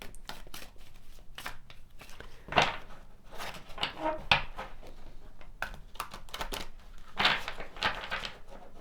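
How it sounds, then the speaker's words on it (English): Crisp papery flicks and riffles of worn tarot cards being shuffled, close by, in irregular bursts with a few louder slaps, no talking. "I have to be careful about how I shuffle these because these cards are worn out"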